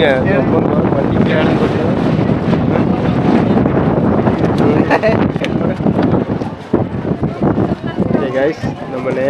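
Strong sea wind at Kanyakumari buffets the microphone in a loud, continuous roar that lasts the whole time, with voices faintly mixed underneath.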